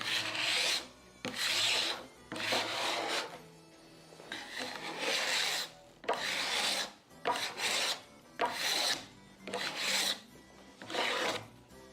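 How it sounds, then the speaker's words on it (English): A card scraper working over a wooden door during restoration, rasping in repeated strokes of about a second each with brief pauses between, close and fairly loud. "I think I should first use a card scraper."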